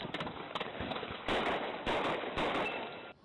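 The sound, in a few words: police officers firing gunshots at a car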